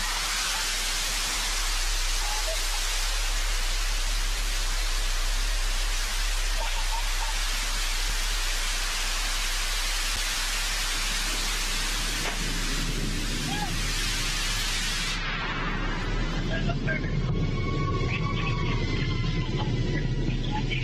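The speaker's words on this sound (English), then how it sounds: "Engine relight." The New Shepard rocket booster's engine relights during its landing descent, a continuous heavy roar of hissing noise that shifts in tone partway through, with a commentator talking over it.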